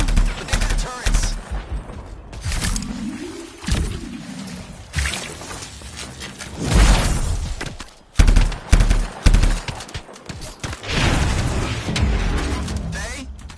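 Automatic turret fire in the Anthem video game, rapid gunshot bursts mixed with mechanical clatter, loud and up close, recurring across the scene with game dialogue and effects layered over it.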